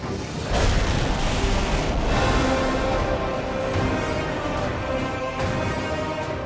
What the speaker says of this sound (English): Korolev's R-7 rocket is finally ready for its first launch